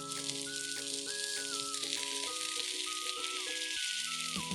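Chicken wings frying under a lid in a pan over medium heat, a steady close crackling sizzle with dense popping spatter throughout, while faint music plays underneath.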